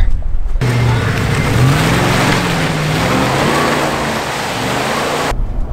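An off-road Jeep rig's engine runs loud and close in a sustained rumbling drone with a rushing, wind-like edge. The sound cuts in abruptly and holds steady before stopping.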